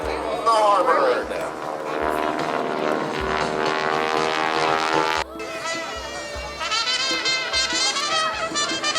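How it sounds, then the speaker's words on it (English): A big yellow aerobatic propeller airplane roars past at an airshow, a loud, sustained engine drone rising and falling in pitch, with an announcer talking over it. "big yellow airplane as he arches back up into the sky"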